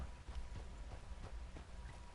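Horse hooves clip-clopping at a steady run in Red Dead Redemption 2, a rhythmic series of close, fairly loud thuds over low rumbling ambience, with no talking.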